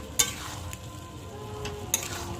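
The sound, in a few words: stirring pointed gourd with yogurt and spices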